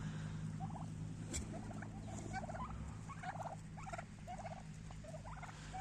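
Turkeys of different breeds gobble repeatedly in quick rattling bursts at pasture, some closer and some farther off, over a low background hum.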